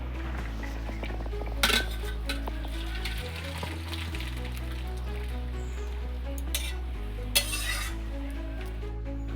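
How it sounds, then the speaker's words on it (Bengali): A vegetarian chhana egg curry is stirred in a pan with soft sizzling and utensil scrapes, partly masked by steady background music, with no talking. "এবার নাড়িয়ে দিচ্ছি।"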